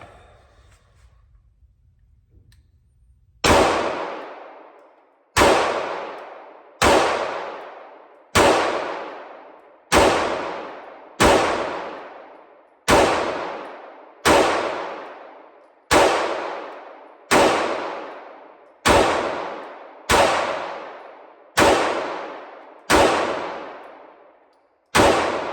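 A Smith & Wesson M&P 2.0 Compact pistol fired at a range, fourteen sharp, loud, close gunshots at a steady pace roughly one and a half seconds apart, each with a decaying echo tail, after a few seconds of quiet.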